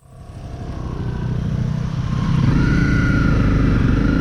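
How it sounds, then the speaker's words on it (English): Trail and adventure motorcycles, a CRF Rally, a WR250 and a KLR250, start up and rev in New Zealand's South Island, their engines swelling from quiet to a loud, steady close drone with no talk. "we're on the bigger bikes. So CRF, WR and the KLR."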